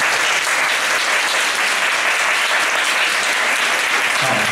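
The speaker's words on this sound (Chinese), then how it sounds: "大家帮你鼓掌一下好不好" An audience at an evening talk claps in a dense, continuous burst of applause that stays even and fairly loud from start to finish, with no voices standing out.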